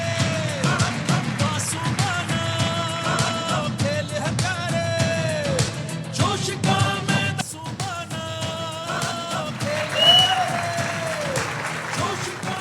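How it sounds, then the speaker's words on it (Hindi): Studio audience applause on a Pakistani cricket talk show, steady clapping sustained throughout at moderate volume, mixed with background music and some crowd noise. "भाई तालियां भाई, बहुत अच्छे"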